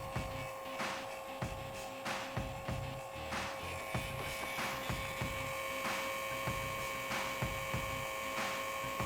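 A heat gun warms painted foam on a sci-fi helmet, its fan blowing a steady whirring hum at close range, with intermittent knocks and handling sounds over the drone and no speech.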